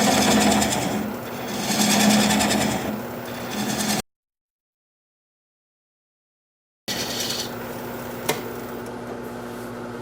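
Wood lathe spinning a turned bowl as a gouge cuts it off, a loud droning hum with rough scraping bursts that stops for a few seconds of silence, then resumes with a steady whir and one sharp click.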